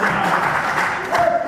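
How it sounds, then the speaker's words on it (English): A wrestling show crowd cheering and applauding for both competitors, a dense, loud wash of clapping and voices throughout. "The crowd loud for both competitors"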